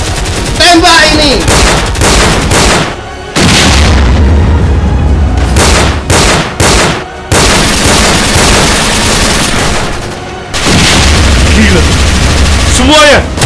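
Loud, dense gunfire and booms from a staged historical battle reenactment, continuous volleys over about thirteen seconds with brief gaps, shouting voices mixed in throughout.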